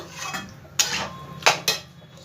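A spoon scraping and clanking against a pan while mixed vegetables and water are stirred together for a Bengali vegetarian dish, with three sharp metallic knocks over a soft, close background.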